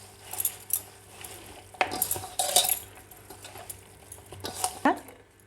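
Mutton pieces, onion and salt being mixed in a pot for Champaran mutton handi, with repeated metallic clanks and scrapes of a spoon against the vessel at an irregular pace, fairly close, with a voice speaking at moments.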